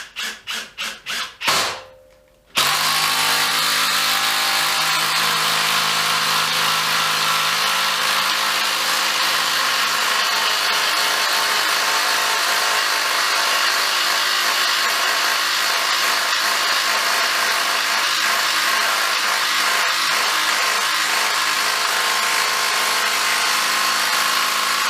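A Makita power drill drives into wood with a loud, continuous whining grind after a few brief knocks, running steadily at close range with no talk.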